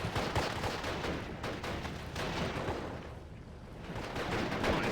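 Machine gun fire support in the WWII strategy game Steel Division, heard as dense, continuous rattling bursts of automatic gunfire with distant artillery-like booms, steady and loud throughout.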